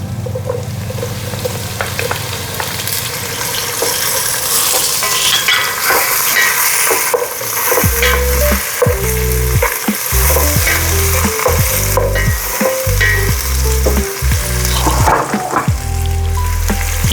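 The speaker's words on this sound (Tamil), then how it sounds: "நல்லா ஜிஞ்சர் ஃப்ரை ஆகி நல்லா வாசம் கொண்டு வருது" Ginger, garlic and chilli sizzle in hot oil in a pan, loud and steady, with repeated clattering stirs from a spoon or spatula through the second half; no one talks.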